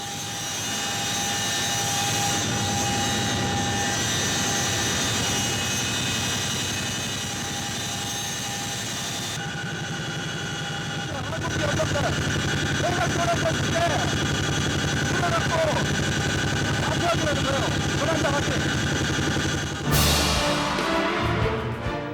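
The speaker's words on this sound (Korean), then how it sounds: "헬기가 사고 지점을 향해 달리는 동안" An Air Force search-and-rescue helicopter drones steadily throughout, a loud continuous rotor and engine roar heard from inside the cabin, with a voice talking over it.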